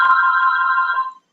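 A phone rings loudly and close with a steady electronic tone that holds for about a second and then cuts off abruptly, no voices present.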